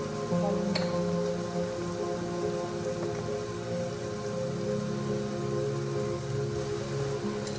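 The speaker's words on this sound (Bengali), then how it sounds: "তেল গরম হয়ে গেলে এখন পেঁয়াজ কুচি দিয়ে দেবো। সাথে এখন কাঁচামরিচ কুচি দিয়ে দেবো" Chopped onion and green chili frying in hot oil in a pan, a steady close crackling sizzle that carries on without break from start to finish, with no talking.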